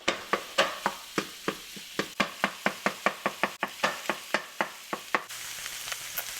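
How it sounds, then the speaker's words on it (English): Beyond vegetarian sausage broken up in a hot pan: a steady series of sharp spatula taps and scrapes, roughly two per second, over a faint sizzle, ending with a brief steady frying hiss. "Now that the sausage is in the pan, time to get to work breaking it up"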